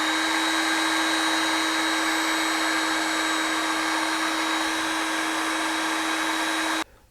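A heat gun shrinks heat shrink tubing over a splice on a vehicle wiring harness, a loud, steady whooshing blower hum with a constant whine that runs unbroken until it cuts off abruptly at the end.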